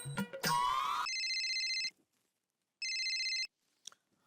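A telephone rings in two electronic bursts, the first running about a second and a half and the second shorter after a pause, loud and close in an otherwise quiet room, with a brief clatter just before.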